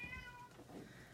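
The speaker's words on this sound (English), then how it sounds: "if you hear meowing, you're not alone. There's a cat in here." A faint cat meow inside a house, a short thin tonal cry over quiet room background.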